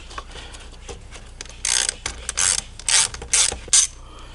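Ratchet driving an 8mm socket to loosen a fastener on a Dodge Dart 2.0L/2.4L thermostat housing, giving several bursts of quick close clicking, each lasting about a quarter second, with quiet gaps between them.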